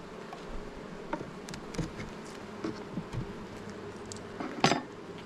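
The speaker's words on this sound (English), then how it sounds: "all these bees went to the bottom, which is where they should go" Honeybees buzzing in a steady, droning hum up close, with occasional light clicks and knocks of hive parts being handled.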